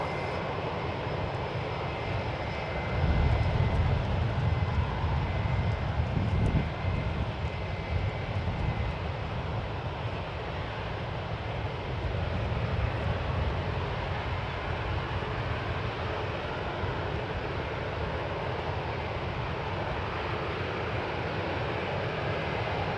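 A heavy airliner comes in to land at San Francisco International Airport on runway 28 left, its engines a steady, broad roar that swells briefly then holds, with no talk over it.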